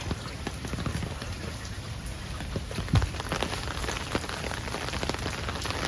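Steady rain patters across a backyard garden of succulents, cacti and California native plants, a dense even hiss with scattered drop taps and one brief louder knock near the middle.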